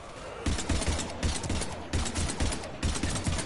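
Bursts of automatic gunfire aimed at husks in Mass Effect 3, firing in four or five rapid rhythmic volleys with short pauses between them.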